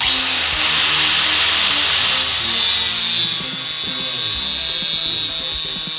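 A Keyang DG100B 4-inch angle grinder cuts with a loud, steady high-pitched whine that holds for several seconds, its tone shifting partway through.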